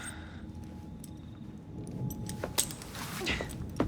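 Keys jangle as they are handed over in Assassin's Creed Syndicate, a few light metallic clinks and rattles rising late over a low ambient hum.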